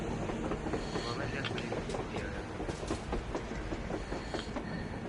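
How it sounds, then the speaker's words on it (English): Rumbling train noise from the video game Metro Exodus, a steady clatter of wheels on rails, loud and close, continuing throughout with no pauses. "A train! A damn train on the surface!"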